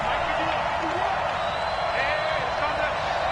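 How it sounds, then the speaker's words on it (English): A football stadium crowd at a Cowboys versus Texans game keeps up a steady, noisy roar while urging on the defense on a third down, with a commentator talking over it throughout. "this crowd urging on their defense"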